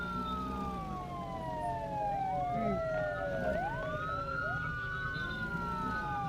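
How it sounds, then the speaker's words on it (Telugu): Police siren wailing on a vehicle in the Roblox video game, with several rising and falling sweeps overlapping continuously at steady, fairly close volume, plus a low hum beneath. "ఆపేసి సైరన్ ఆపేసి"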